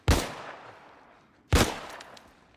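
Two sharp gunshots from Ellie in The Last of Us Part 1, about a second and a half apart, each loud and close with a short decaying tail, no talk over them.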